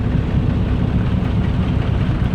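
A tractor engine runs steadily at a farm harvest day with a corn binder, a continuous low rumbling drone close by with no talk over it.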